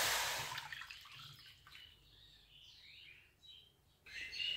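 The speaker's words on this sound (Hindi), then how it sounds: "पैन में दूध डाल देना है।" Milk poured into a cooking pan for coconut barfi, a close trickling, gurgling pour that starts loudly and then runs on more softly with bubbly tones, rising again at the end, with no talking.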